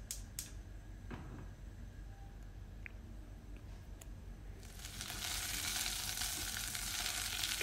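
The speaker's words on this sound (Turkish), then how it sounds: "Biberleri hafif yumuşayana kadar kavuruyorum." Quiet clinks and stirring at first, then a steady crackling sizzle of peppers sautéing in a pan grows louder and continues to the end.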